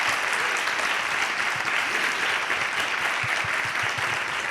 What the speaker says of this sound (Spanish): Un aplauso para Bernal, por favor, que se me olvida.